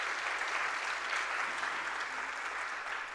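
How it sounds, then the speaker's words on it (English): A large indoor audience at an astronomy panel discussion in Thailand claps steadily in a loud, dense round of applause welcoming a speaker, sustained without pause throughout. "A big round of applause welcoming him here too"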